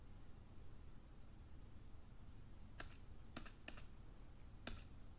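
A few sharp keystrokes on a computer keyboard while entering data in accounting software, four or five isolated clicks in quick succession over a steady background hiss.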